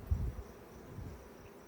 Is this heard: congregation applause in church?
no